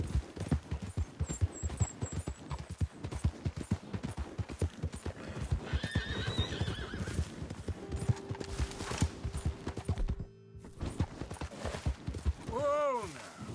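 Horse hooves clip-clop rapidly in a steady galloping rhythm in the Red Dead Redemption 2 video game, with a horse whinnying and snorting partway through.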